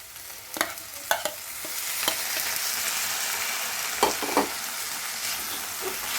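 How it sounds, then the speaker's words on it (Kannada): Greens and onion frying in a pan while being stirred for a Kannada soppu bele uppsaaru, with a steady bright sizzle and several sharp scraping clacks of the spoon against the pan. "ಸೊಪ್ಪೆಲ್ಲ ಚೆನ್ನಾಗಿ ತಿರುಗಿಸ್ಕೊಂಡು ಫ್ರೈ ಮಾಡ್ಕೊಳ್ಳೋಣ."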